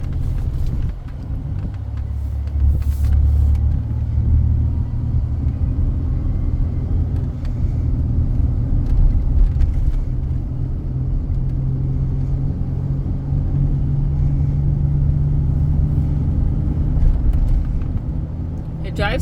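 A 2002 Ford Explorer SportTrac with the 4.0 engine driving on the road, heard as a steady low cabin rumble of engine and tyres that stays fairly constant throughout, close and continuous.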